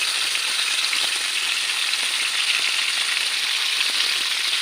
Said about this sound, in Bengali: এবার মাছটা ভেজে নেব। 3-4 চামচি তেল দিয়েছি, অল্প তেল লাগবে।